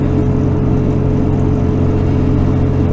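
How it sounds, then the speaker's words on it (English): Truck engine held at about 1800 RPM on a mountain highway, a steady loud low drone with a constant whirring hum and no change in pitch. "set clear down to an 1800 RPM motor, so I've got her spinning real good"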